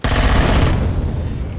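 Sustained rapid automatic gunfire in the Empyrion Galactic Survival video game, a loud dense burst of shots aimed at the player that cuts off partway and leaves a fading rumble.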